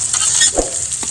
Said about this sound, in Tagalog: Lutuin na natin yan ng luya at saka bawang.